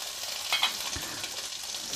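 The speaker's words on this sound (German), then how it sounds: "kocht hier gerade ein bisschen über. Ich habe den kleinen Topf bis zum Rand voll gemacht mit Kartoffeln." A small pot filled to the brim with potatoes boiling over on a kitchen stove, heard as close, continuous hissing and sizzling as water spills onto the hot surface, with a few faint knocks.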